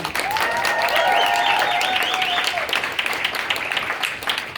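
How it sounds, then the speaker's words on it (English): A convention audience applauds at a closing ceremony, with loud, dense clapping mixed with some cheering and a whistle-like tone. The applause fills the whole stretch and fades slightly toward the end. "can we just get a round of applause to Nitro one more time?"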